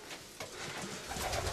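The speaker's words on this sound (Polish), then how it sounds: "jesteśmy w środku, wewnątrz gołębnika lotowego" Racing pigeons cooing inside a pigeon loft, soft low murmuring coos blending into a steady, fairly quiet indoor hum with no speech.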